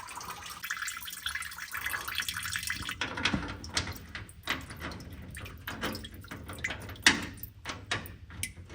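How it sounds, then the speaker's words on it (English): Oil or fuel drips into a catch container while a part drains on a 1964 Ford Galaxie during a fuel tank job, scattered soft drops and splashes over a faint background hiss, with no talking. "Just gonna let it drip a little bit longer."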